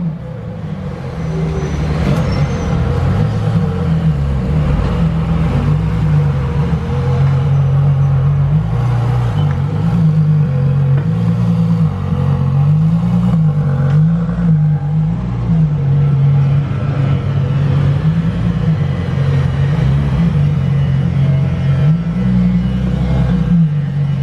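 A Ferrari Monza SP2 engine idles with a deep, steady rumble close by, rising and falling in gentle revs as the car is moved and repositioned for about twenty-four seconds, loud and continuous with no talk over it.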